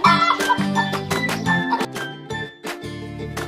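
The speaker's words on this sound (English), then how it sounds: "H for hen." A hen clucks in short bursts over bright, jingly music with tinkling chimes.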